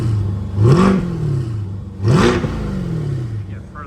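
A Chevrolet Corvette C8 in sport mode with its exhaust valves open, revved twice from idle, each rev rising to a loud roar and falling back to a steady burbling idle, heard from nearby.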